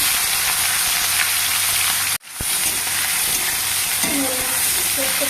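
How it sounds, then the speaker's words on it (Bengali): Chopped onions hit hot oil with whole cumin, a bright steady sizzle that cuts out for a moment as they are stirred, then resumes with light clinks and scraping in the pan. "তেলের উপরে পেঁয়াজ দিয়েছি"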